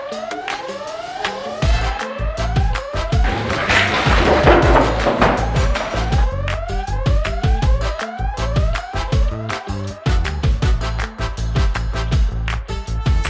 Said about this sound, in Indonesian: Jika mendengar bunyi alarm atau sirene panjang, itu artinya ada keadaan darurat.